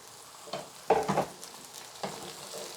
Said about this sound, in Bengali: চার পাঁচ মিনিট একটু তেলের সাথে ভেজে নিব